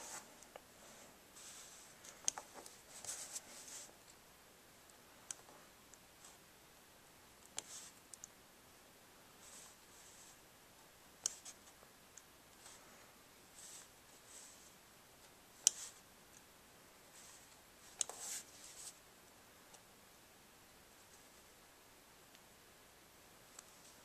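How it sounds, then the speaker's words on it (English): Scissors cut out the centre of a paper card: faint, scattered snips and clicks with short rustling bursts against near silence, close by, with no talk. "I'm just cutting the whole little center out."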